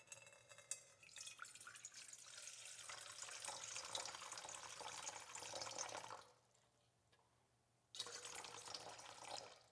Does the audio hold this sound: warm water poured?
yes